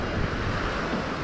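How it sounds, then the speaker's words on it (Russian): Surf waves breaking at Esmeralda beach in the Dominican Republic, a steady broadband wash of water with wind noise on the microphone, loud and continuous with no distinct individual wave crashes. "Приземлились мы на пляже Эсмеральда"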